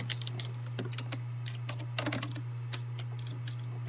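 Rapid, irregular keystrokes from a computer keyboard while text is typed into a LibreOffice document, close and fairly crisp, over a steady low electrical hum, with no talking.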